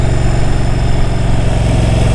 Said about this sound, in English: All you're hearing is the exhaust, really.